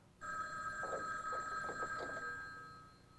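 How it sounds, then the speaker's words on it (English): An old-style telephone bell rings in a 1970s soap opera office scene, a bright sustained ringing tone that starts abruptly and carries on steadily, with faint murmurs underneath. "Oh, you're answering your own phone today."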